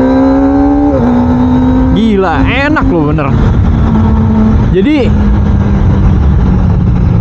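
A Kawasaki Ninja ZX25R motorcycle engine revs hard in second gear, loud and close with a high-pitched four-cylinder wail that rises and falls in several bursts, while someone talks over it.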